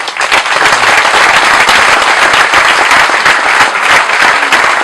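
A church congregation bursts into sustained, loud applause and cheering to acclaim the Lord, dense clapping filling the room steadily from start to finish with no pauses.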